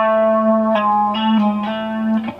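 An electric guitar with effects rings out a sustained chord shape from a riff, with a few rhythmic picked accents over a steady, distorted, chorused tone.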